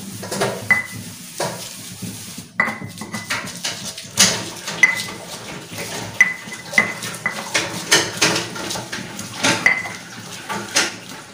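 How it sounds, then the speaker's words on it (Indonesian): Spices ground in a stone mortar and pestle (ulekan) for a Central Javanese dish, heard as a run of sharp, close, irregular knocks and scrapes of stone on stone, repeating steadily with short pauses. "Sekarang aku lagi ulek-ulek ya sahabat Ria"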